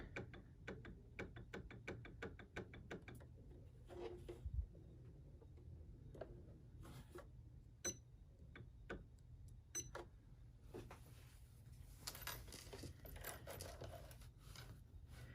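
A sewing machine with a zipper foot stitches fabric layers to a zipper, giving quick rhythmic bursts of mechanical clicking and whirring that stop and start, with faint handling clatter between runs.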